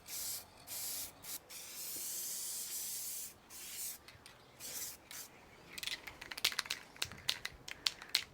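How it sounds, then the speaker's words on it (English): Spray paint cans blast a panel in long, loud hissing jets that are poorly controlled, then break into choppy, sputtering bursts. "these cans spray terribly"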